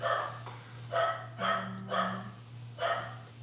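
A dog barks in short repeated bursts, about five barks spaced roughly half a second apart, moderately close, over a steady low electrical hum in a garage.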